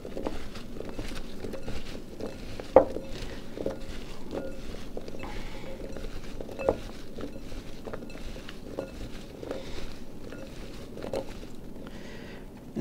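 Brussels sprouts being tossed with oil by hand in a bowl, giving a soft, steady wet patter and squish with occasional louder slaps, close up and without talk.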